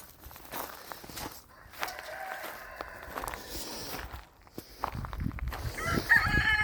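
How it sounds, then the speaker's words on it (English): Farm chickens cluck around a rooster crowing on a large poultry property, with footsteps moving through the scene and the flock growing louder toward the end. "I'm gonna get the chickens out and I'm just gonna see how they react"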